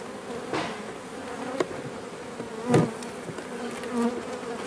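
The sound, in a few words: bees buzzing in hive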